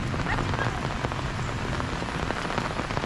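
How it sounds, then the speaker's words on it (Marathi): Heavy rain pours down on Mawlynnong village in Meghalaya, a dense, steady patter on nearby surfaces that fills the whole stretch with no voices. "पाऊस मित्रांनो पडतो आहे खूप"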